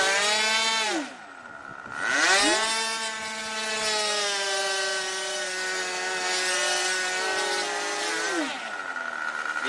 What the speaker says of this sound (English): The engine sounds weird.